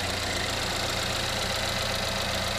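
A 2.4-liter Ecotec engine in a used Chevrolet Equinox idles steadily at close range, a low continuous rumble with a faint knocking texture and no voices.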